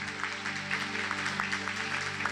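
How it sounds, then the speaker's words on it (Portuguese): A congregation claps loudly at a church service, an even wash of applause over a steady sustained organ or keyboard tone throughout. "E aplauda o mais forte que você pode aí."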